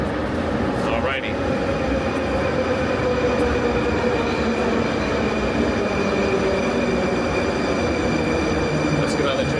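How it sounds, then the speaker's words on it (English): A Russian metro train rumbles steadily with a loud, continuous roar of wheels and carriage noise, steady tonal whine and occasional faint squeal; speech is mixed in over the din. "Let's get on the train."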